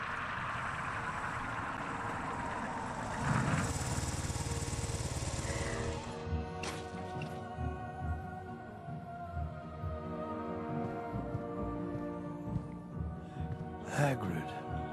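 A motorbike engine in the Harry Potter and the Philosopher's Stone PS2 cutscene drones loudly for several seconds, then falls away beneath dialogue as voices talk over a softer idle.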